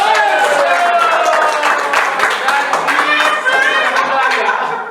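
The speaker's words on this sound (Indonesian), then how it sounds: "tepuk tangan dulu semuanya" Dense applause from a crowd, steady clapping that fills the whole stretch with scattered voices and chatter mixed in.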